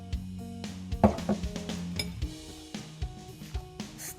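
Milk stirred into queen cake batter in a bowl, a few distinct clinks and scrapes of a utensil against the bowl, close and intermittent, with a quiet hum behind.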